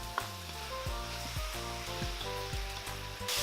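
Squid rings sizzle loudly in a hot pan as they are mixed together, a dense close frying hiss broken by a few clattering stirs and scrapes, with no talking.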